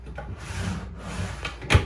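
A wooden drawer on a custom-built caravan cabinet slides and knocks once near the end, a short close scrape and thump after soft rubbing.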